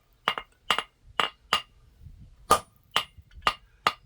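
A hammer strikes a welded metal candle holder eight times in a quick, uneven series of sharp, ringing clanks, each close and distinct, with short pauses between blows.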